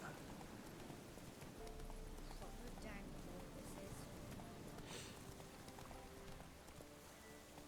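Roach, a horse in the video game The Witcher 3, gallops with steady clip-clop hoofbeats running throughout, set against a dense ambient game background, with a voice talking over it.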